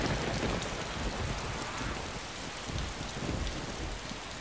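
Rain falls in the survival video game DayZ, a steady hissing patter of drops on surfaces, even and continuous with no voices over it.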